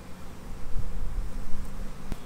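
Honeybees buzz steadily in close range during a sugar shake mite check, a low droning hum rising and falling with a few sharp knocks and rustles.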